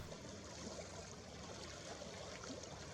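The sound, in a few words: water trickling and lapping on the shore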